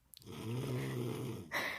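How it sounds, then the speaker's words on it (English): Loud, rasping snore from a child with a deep rumbling buzz, one long drawn breath followed by the start of another, close by. "This is the loudest snoring I've ever heard off anybody"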